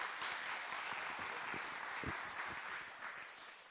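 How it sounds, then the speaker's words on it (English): Audience in a church clapping to welcome Tyler forward as a guest speaker, a steady wash of applause holding for several seconds with some louder individual claps near the front. "Yeah, give him a round of applause."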